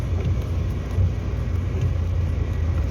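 A car drives along a village road in Ukraine, its steady low engine rumble and tyre roar continuous and close throughout, with no talking.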